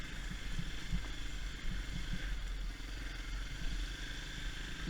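Dirt bike motorcycle riding on a motocross track, its engine droning steadily with a low rumble and intermittent revs, accompanied by wind buffeting and faint clatter throughout.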